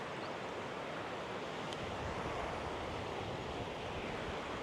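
A forest river flowing near a national park in Dilijan, Armenia, heard as a steady dense rushing wash of water with no breaks, moderately loud and close, with no voices.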